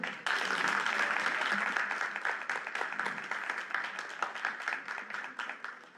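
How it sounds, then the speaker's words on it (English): Audience applause at a school board award ceremony, a dense, steady roll of many hands clapping that starts abruptly and continues without a break, fading slightly toward the end. "Can we please have a round of applause for everyone?"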